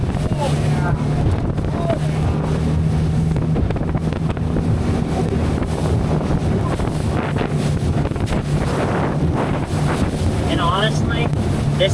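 An Eastcape 25 motorboat engine drones steadily throughout, buffeted by heavy wind noise on the microphone, loud and continuous with no pauses.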